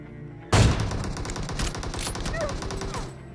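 A shooter video game erupts in a sudden burst of rapid gunfire that keeps rattling for about three seconds, loud and dense after a quieter lead-in.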